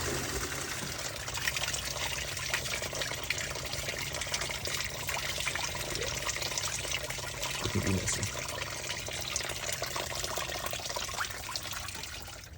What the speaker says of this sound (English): once all that coolant has drained out and stopped leaking